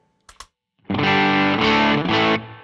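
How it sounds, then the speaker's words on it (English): An electric guitar on its treble pickup drives a tube amp hard through a Way Huge Red Llama overdrive used as a boost, giving loud, thick, saturated chords that ring out after a couple of short muted scratches. "So what you're hearing is the amp being pushed."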